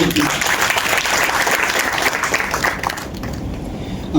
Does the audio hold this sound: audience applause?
yes